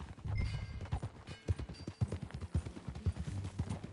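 Horse hooves clip-clop at a walk in the video game Red Dead Redemption 2, with soft, fairly quiet, irregular thuds and light tack jingles.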